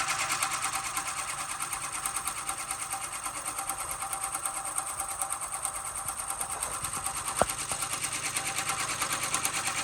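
An embroidery machine stitching a zigzag design on a hoodie at its lowest speed, giving a steady, fast mechanical chatter that runs unbroken and close up, with a single brief click near the end.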